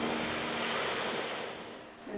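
Ocean waves rolling onto the beach at Noirmoutier, a steady broad wash of surf with wind rumbling against the microphone, no voices.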